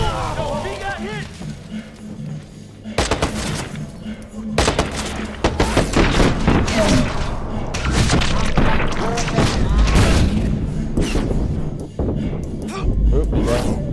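In the Watch Dogs video game, a grenade blast and dense bursts of gunfire erupt in a chaotic firefight, loud and close, with excited shouting voices talking over the shooting.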